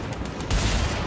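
Gunfire in the Mad Max video game: a short burst of rapid shots, loud and close, lasting about a second, with no talking.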